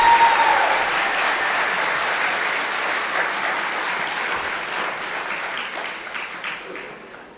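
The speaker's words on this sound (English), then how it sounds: "let's give him a round of applause anyway for 8 years of dedication" An audience at a governors summit on disabilities claps steadily in sustained applause, a broad dense wash that holds loud throughout and tapers slightly toward the end, with no talking.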